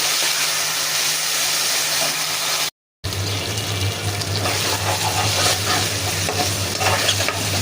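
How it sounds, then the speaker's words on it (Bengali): Ginger garlic paste fries in a pan with a continuous loud sizzle and scraping stirring, a brief silent gap partway through, and a low steady hum underneath. "আদা রসুন কষানো ভাজাভাজি হয়ে গেছে"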